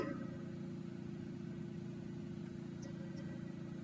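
A car engine in a battle royale video game drones at a steady, unchanging pitch throughout, fairly quiet, with no talk.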